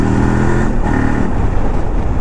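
A 2024 Kove 800X adventure motorcycle on a test ride has a steady, loud engine drone with engine tones shifting as the throttle is opened abruptly, under heavy wind rumble and with no voices.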